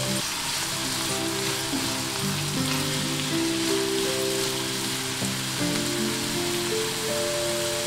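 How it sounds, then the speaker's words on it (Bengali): Raisins and vegetables fry in a pan for semolina pulao, a steady close sizzle and crackle running throughout with faint clinks, while background music plays over it. "ভালো করে সবজির সঙ্গে কিশমিশ ভেজে নিলাম।"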